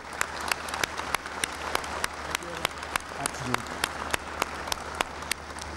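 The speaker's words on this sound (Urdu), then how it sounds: "آپ تالیوں سے ان کی اور ان کی ٹیم کی بھرپور ستائش کریں" Sparse, scattered clapping from an audience at a Pakistani prime minister's speech at the National Disaster Management Authority, individual claps standing out sharply over a low steady hum, with faint voices in the background.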